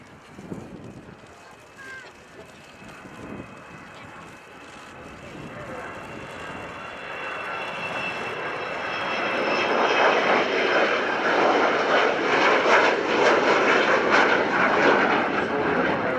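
A bomber aircraft with wheels down flies past at an airshow, its engine roar building from distant to a loud, sustained rumble overhead, with people talking faintly early on.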